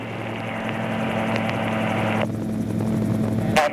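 An MTO Sport autogyro's engine and rotor drone loudly in flight during a pattern circuit, then the pitch and volume drop abruptly as the throttle comes back, leaving a steadier lower hum.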